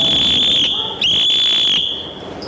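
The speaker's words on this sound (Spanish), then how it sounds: "hago sonar el silbato." A shrill, steady whistle blast held for about two seconds, briefly broken once, with faint background noise underneath, blown on a subway train in Barcelona.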